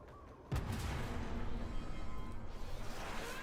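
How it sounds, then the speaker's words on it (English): A sudden booming explosion in the video game Warframe erupts and then rolls into a long, dense rumble of continued blasts and gunfire that fills the rest of the moment. "How's that explosion?"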